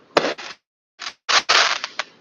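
Fireworks go off in a quick series of sharp cracking pops, some clustered and some spaced apart, loud and close with no voices.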